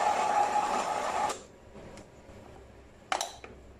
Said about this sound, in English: Let's start by grinding the beans.